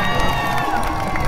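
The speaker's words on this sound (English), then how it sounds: "Let's give him a big round of applause." A crowd at a high school championship victory celebration cheers and shouts in a brief, loud burst of excited voices, with whoops and possible applause mixed in.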